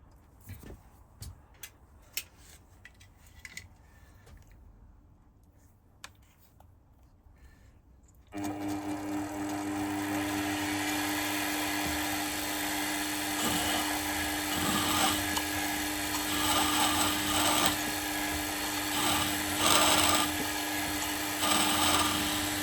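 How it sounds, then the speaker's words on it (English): A drill bores into a metal fixture plate with a steady, loud whining hum that starts abruptly partway through, after a stretch of quiet ticking and light handling noises, and runs continuously to the end with slight fluctuations. "I'm also going to drill into the fixture plate"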